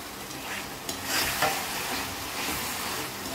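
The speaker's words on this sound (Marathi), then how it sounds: "आता यात सोडत आहे मी आपण तळलेल्या गोबी." Fried cauliflower pieces drop into boiling gravy for crispy Indian-style gobi, giving a steady close sizzle and bubbling with a brief splash as they go in.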